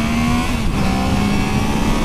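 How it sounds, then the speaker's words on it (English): Triumph Trident three-cylinder motorcycle engine running loud and close, a dense steady drone with a slight pitch shift as it moves through the gears, no talk. "it's still very good fun going up and down the gearbox"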